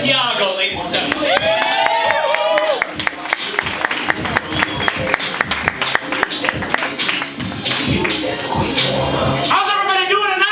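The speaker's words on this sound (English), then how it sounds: "please give it up for your first musical guest" A live-theater crowd cheers, whoops and claps for the first musical guest of a comedy-variety show. Sharp, steady handclaps run through loud shouting voices for about ten seconds.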